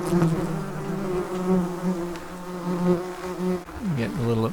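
Yellow jacket wasps buzz loudly and steadily around their nest as it is pulled apart. The droning hum holds for several seconds, then dips and shifts in pitch as insects move closer and away.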